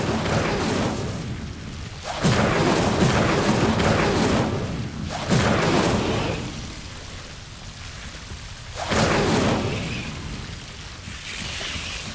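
Repeated Incendio fire spell casts in Hogwarts Legacy, each a sudden loud whooshing crackle of flame that sustains for a second or two before fading under steady background rumble, with about four bursts spread across the stretch.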